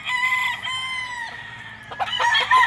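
Sweater McLean gamefowl roosters at a gamefarm, one crowing loudly and close in a long drawn-out call, then clucking and further calls overlapping toward the end, with no talk.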